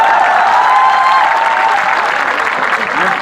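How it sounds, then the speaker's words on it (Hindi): An audience at a Hindi comic poetry gathering claps loudly and steadily, a dense sustained wave of applause that barely fades. "मेरे स्वागत में दोबारा जोरदार तालियां बजाएं।"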